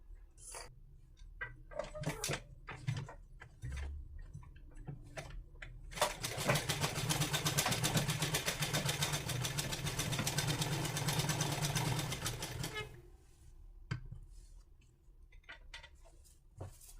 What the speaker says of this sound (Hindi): आधा इंच की सिलाई हम यहाँ पे लगाते जाएंगे